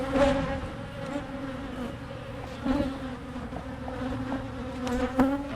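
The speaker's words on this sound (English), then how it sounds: "There's a lot of bees in there." Dense buzzing of many honey bees around a hive frame, a steady close swarm drone with slight swells in loudness and no talking.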